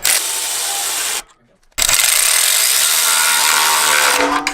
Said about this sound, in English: Next, you want to tighten up all of your hose clamps.